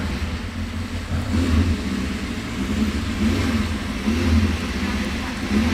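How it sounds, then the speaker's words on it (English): A V8 hillclimb race car idles and rumbles at the British Championship at Prescott, a steady low throbbing engine at moderate distance with slight swells, heard over a continuous outdoor background with faint voices. "I hear V8 rumbling away."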